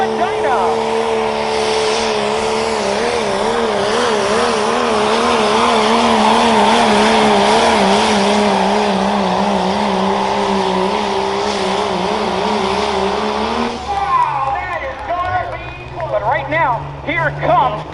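A 1995 Dodge Ram 2500 pulling truck at the Hartford Fair tractor pull roars at a loud, sustained high-revving pitch that wavers as it strains, then drops off sharply near the end under an announcer's voice.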